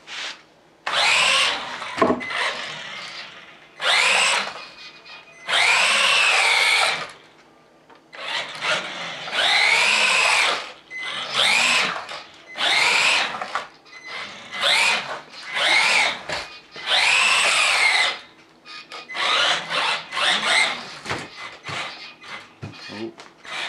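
A Wltoys L959 Litehawk Blast RC car with new real rear tires is driven hard at full throttle indoors, its small electric motor whining in repeated loud bursts separated by short pauses.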